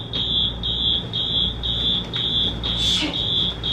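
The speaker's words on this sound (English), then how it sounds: "Fire alarm?" A fire alarm sounds in a home, a loud, piercing tone pulsing in a steady rhythm of about two beeps per second, with a brief rustle in the background near the end.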